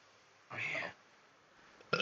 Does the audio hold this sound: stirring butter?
no